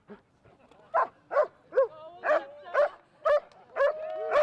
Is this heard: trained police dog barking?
yes